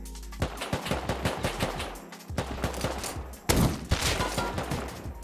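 Automatic gunfire in the survival video game Rust: rapid, loud bursts of shots in quick rhythm, a brief pause, then more sustained firing with a heavy blast, close and without talking.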